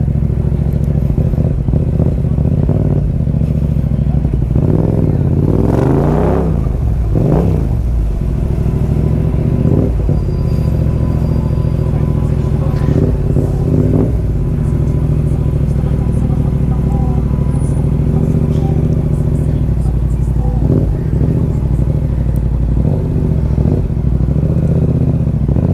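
Yamaha MT-07 motorcycle engine on a test ride, a loud steady rumble running throughout with a few rising revs, while people talk over it.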